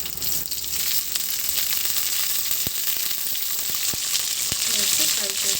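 Mint leaves, curry leaves, green chillies, bay leaf and rose petals fry with whole spices in hot oil for Hyderabadi bagara rice, producing a loud, continuous close sizzle with a few faint clicks of stirring.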